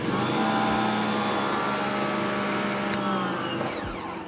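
A pressure washer runs during a truck bed detailing setup, a loud continuous motor drone with steady tonal whine, close and constant, pitch dipping slightly near the end.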